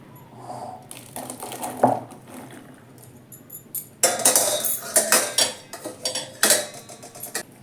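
A spoon clanks and scrapes against a metal pot while makali root pickle is mixed, with quiet stirring at first, then a burst of loud, irregular metallic knocks and rattles.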